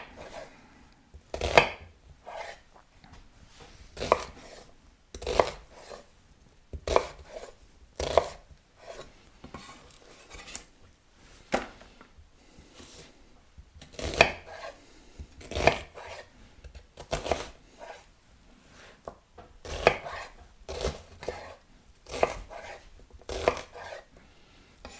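A knife chops onions on a cutting board in a quiet kitchen, giving irregular clusters of sharp, close knocks separated by short pauses, with no talking.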